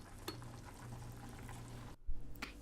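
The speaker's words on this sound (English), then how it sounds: "Here I'm just draining my pasta noodles or macaroni noodles, some sort of noodles." Cooked pasta noodles drained from a pot: a steady, close rush of pouring water and steam that runs for about two seconds, breaks off briefly, then returns with a louder splashing gush.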